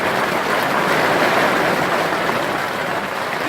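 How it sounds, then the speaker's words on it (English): Heavy rain pouring down in North Carolina, a dense, steady hiss of falling water close by and fairly loud, unbroken for the whole stretch with no talk. "It is raining its butt off."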